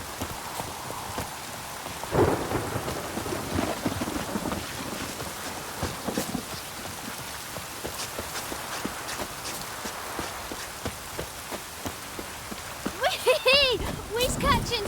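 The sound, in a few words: rain in the video game The Witcher 3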